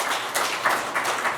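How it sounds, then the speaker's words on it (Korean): Brief, moderately faint applause from the audience at a National Assembly suicide-prevention policy seminar, a soft, continuous patter of clapping lasting just over a second. "여러분 큰 박수 부탁드리겠습니다."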